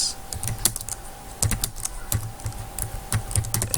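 Fingers tap out HTML code on a computer keyboard in quick irregular bursts of sharp clicks, with a few louder keystrokes like the space bar, close and clear with no talk over them.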